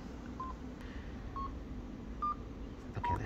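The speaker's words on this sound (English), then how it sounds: "So let's turn on the marker beep." Short electronic beep tones from a FieldFox handheld analyzer's marker beep feature, four brief evenly pitched bleeps spaced about a second apart over a low background hum.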